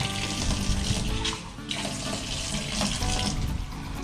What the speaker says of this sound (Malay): kita ambil air, kita basahkan dinding ni.